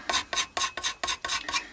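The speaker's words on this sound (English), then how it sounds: "so very careful scraping to" Seven quick, even scraping strokes of a hand scraper rasp across a wooden guitar body's finish, each a short dry scratch in a steady back-and-forth rhythm.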